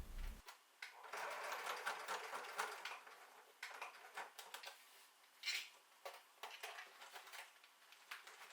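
A sewing machine stitches the zipper panel of a tote bag in quick bursts of rapid mechanical chatter, stopping and starting with short pauses, close and fairly quiet.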